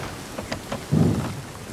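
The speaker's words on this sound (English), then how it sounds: "I just got struck by lightning while driving the boat." A video game thunderstorm on open water rumbles with a short, heavy thunder roll over steady rain, loud and close, with no voices.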